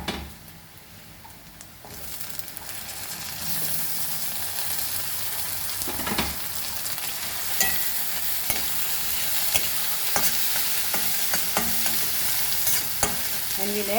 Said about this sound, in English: And fry the onion very, very nicely.